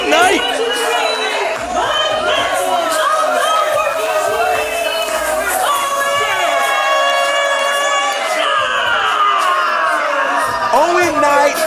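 A loud wrestling-show crowd cheers, whoops and shouts continuously, with high excited voices and children's yells filling the space, while an announcer talks over the roar.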